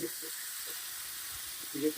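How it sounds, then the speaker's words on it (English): Lamb steaks and potatoes sizzle steadily in a hot pan inside a van, a constant bright hiss with a few faint low bumps, no talking. "Look at them beautiful lamb steaks frying in there with the potatoes"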